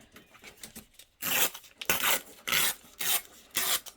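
Scissors cut a piece off a paper envelope: a few quiet rasps, then several loud, rhythmic crunching snips close to the microphone.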